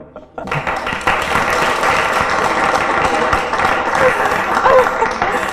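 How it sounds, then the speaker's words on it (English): Studio audience clapping on a talk show, a sustained wash of applause that starts after a brief quiet moment and continues steadily, moderately loud, with some faint voices mixed in. "Clap for her, guys."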